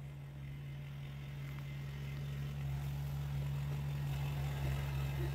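A tractor drives over soft, snowy forest ground, a low steady engine hum with a constant droning tone, moderately close and unchanging, with no voices.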